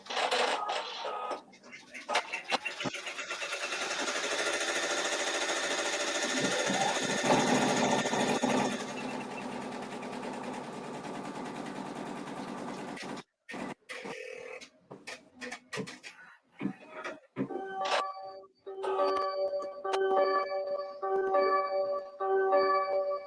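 Embroidery machine stitching an in-the-hoop denim project, a steady loud whirring hum with rapid rhythmic needle ticking that runs continuously, pausing briefly before resuming with a higher tonal mechanical buzz.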